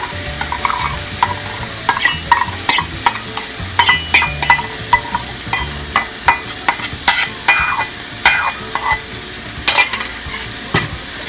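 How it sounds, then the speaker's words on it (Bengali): Yogurt being stirred into a sizzling masala for a golda shrimp curry with Thai fusion, with repeated scraping strokes of a utensil against the pan over steady frying, close and fairly loud, with no talk. "যতক্ষণ পর্যন্ত না মিশে ইয়োগার্টটা আমি ততক্ষণ পর্যন্ত একটু মিশাবো আর হালকা একটু কষিয়ে নিব"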